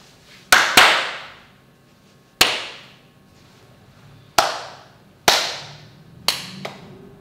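Separate sharp hand claps ring out in a slow, uneven pattern, about six in all with long pauses between, close by and clear in a quiet room during a children's rhythm listening exercise.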